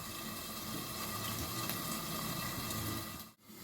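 Ground masala for an egg pepper gravy simmers in a pan, giving a faint, steady bubbling hiss close by that runs almost unbroken, with a brief dip near the end.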